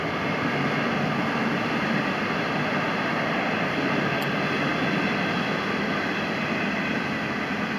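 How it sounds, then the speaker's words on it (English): A train passes nearby in a steady, broad rushing roar that stays at an even level for several seconds, with no talk. "Train is killing my communication."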